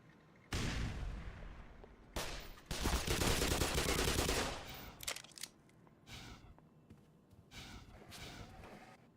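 Gunfire and combat noise from the video game Black Mesa, with loud bursts of shooting at the start and middle, then sparser shots and clatter toward the end.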